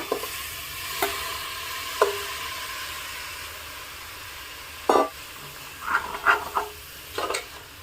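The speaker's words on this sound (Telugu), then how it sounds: "ఈ బోటీని ఫైవ్ మినిట్స్ ఇదే ఆయిల్లో మగ్గించాలండి" Cleaned goat tripe frying in oil with ginger garlic paste: a faint, low background sizzle broken by scattered clinks and scrapes of a spoon against the pot, near and clear of any speech.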